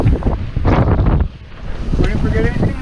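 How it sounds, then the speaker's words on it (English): Strong wind gusts batter the microphone during a heavy rainstorm while fishing at Port Mansfield, rising and dropping in loud rushing bursts, with a voice partly audible beneath. "the wind's picking up"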